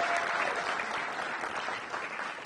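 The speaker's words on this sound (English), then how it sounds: "Give her a big round of applause." A crowd at a bill signing ceremony applauding, a continuous patter of many hands clapping that fades slightly toward the end.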